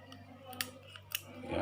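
Kitchen scissors snip through a whole chicken, a few sharp crisp cuts standing out close against a quiet room, with no talk over them.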